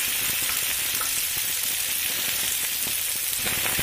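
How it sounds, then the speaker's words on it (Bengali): Minced onion frying in a little hot oil in a wok gives a steady, dense sizzle with faint stirring scrapes, close and continuous without a break. "দিয়ে একটু ভাজা করে নেব"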